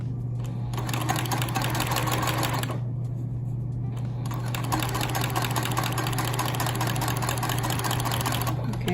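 A sewing machine stitches and back-stitches activewear fabric with a steady, close, loud mechanical whir over a constant motor hum, pausing briefly about three seconds in before running on.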